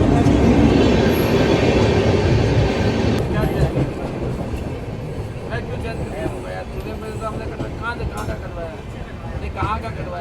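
Ashram Express passenger train running on rails, with steady loud rumbling and clatter of wheels throughout; people talk nearby over the noise.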